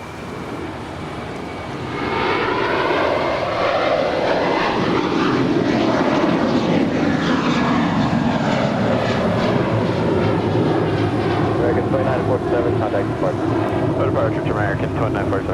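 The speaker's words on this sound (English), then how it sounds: "Departure to American 2947, look at that." American Airlines flight 2947 roars away from LAX on departure, a loud sustained jet engine rumble that swells after two seconds and holds steady, with a distant whine shifting in pitch as it climbs.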